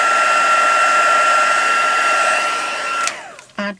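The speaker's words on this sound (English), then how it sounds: "So I'm going to heat set it." A heat tool used for heat embossing on a handmade Stampin' Up! card, blowing with a loud steady whirring hum that stays even, then switches off and winds down near the end.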